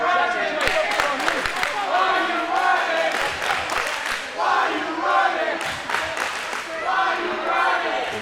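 A wrestling crowd at an FSPW spring show cheers and yells in loud waves, with an announcer talking over the noise.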